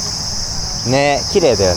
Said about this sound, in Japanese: セミが鳴いております。